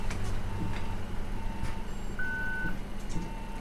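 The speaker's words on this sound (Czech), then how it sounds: "Teď jste slyšeli určitě zvuk pípni a jeď." A short, bright electronic ticket-validator beep, the tap-and-go kind, sounds inside an IVECO Urbanway 12M CNG city bus of the Brno DPMB fleet in the OMSI 2 simulator. It rises over a steady engine rumble and fainter repeating lower beeps.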